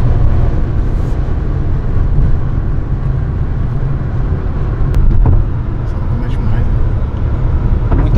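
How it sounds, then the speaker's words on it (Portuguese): A Chevrolet Onix 1.0 turbo fitted with a power chip accelerates hard on the road. A loud, continuous engine and road roar fills the cabin, with voices talking over it. "Consegue dar umas aceleradas da hora pra galera curtir?"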